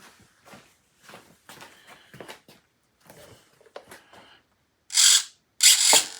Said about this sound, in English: we're going to try out all of the servos and the motor